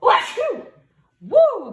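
A person sneezes loudly and close by, twice in quick succession, each a sharp burst with a voiced tail, and no other sound around it.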